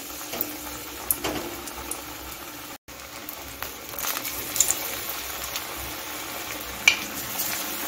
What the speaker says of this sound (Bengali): এখন আমি বড়াগুলো ভেজে নিচ্ছি।